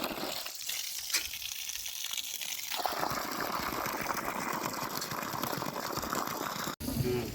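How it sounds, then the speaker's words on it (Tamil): Steady broadband rush of water gushing out of a 250-foot borewell driven by a 1 HP AC motor pump, loud and continuous, building after a few seconds into a full, splashing torrent. "பாருங்க தண்ணி வந்துடுங்க"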